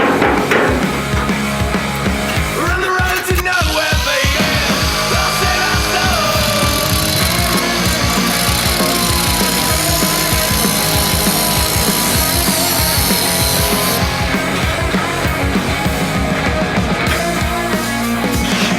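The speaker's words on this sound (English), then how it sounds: "mark around it and cut it to the shape of the guard before we put it back in" A power tool cuts a car's guard panel to shape at a motoring event, a loud continuous whining, grinding cut that runs steadily for most of the stretch with a rougher burst near the start.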